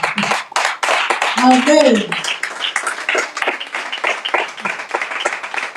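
Church congregation clapping rhythmically in praise during a French-language service, a steady run of hand claps under a preacher's voice calling out.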